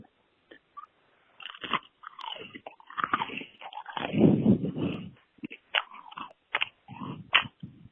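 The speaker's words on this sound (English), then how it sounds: "I'm gonna do a little ASMR right now for you with some fiber crisp bread." Close, crisp biting and chewing of fiber crisp bread for ASMR, a series of sharp crunches and softer grinding chews at an irregular rhythm, loud and intimate against near silence.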